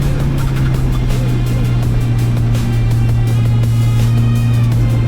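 A car pushed as fast as possible into a corner at a track day, its engine holding a loud, steady drone throughout with no talk.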